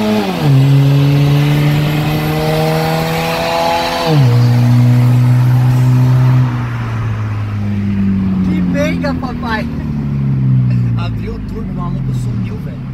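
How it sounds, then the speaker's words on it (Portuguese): A turbocharged VW Polo accelerates hard in a street race, its engine note climbing through repeated gear pulls, loud and close at first and then fainter, with voices talking over it. "na hora que abre o turbo"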